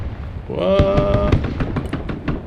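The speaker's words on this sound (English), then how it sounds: "Grenade launchers, man." Grenade launcher fire in the Broken Arrow war game thumps out as a rapid string of sharp blasts over a low battlefield rumble, while a voice speaks briefly underneath.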